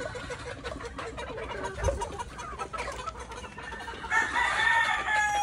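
Young chickens and stags in a small backyard range area on a farm cluck and call close by, with a rooster crowing loudly near the end and no talk.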